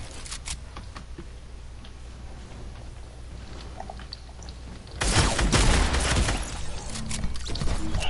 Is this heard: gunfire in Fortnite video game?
yes